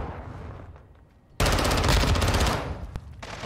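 Automatic gunfire in Modern Warfare 2, a loud sustained burst of rapid shots that starts abruptly partway through and runs for over a second before tapering, with quieter game ambience around it.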